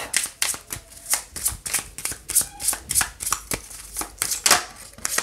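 Oracle cards are cut and shuffled by hand in a quick, even flurry of crisp papery riffles close up, with no talking.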